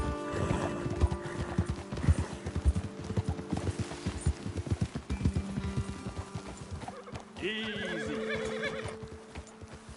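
Horses in the Red Dead Redemption video game trot with rapid, dense clip-clop hoofbeats, then one gives a loud whinny near the end, close and prominent, with a brief spoken word over it.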